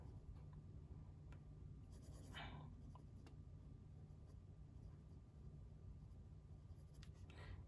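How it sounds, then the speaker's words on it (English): Pen nib scratching across paper in a garden journal as a circle is drawn, faint soft strokes in short bursts separated by quiet pauses. "I'm gonna just draw a circle"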